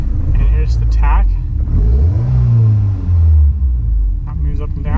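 A 2004 Honda S2000 engine revs up and settles back, a loud close rumble rising to a sustained higher pitch, with someone speaking over it at the start and end.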